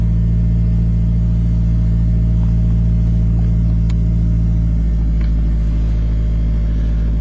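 A red 1994 Ford Probe with a 2.0 engine and automatic transmission idles after a cold start, giving a steady, loud low rumble with no change in pace.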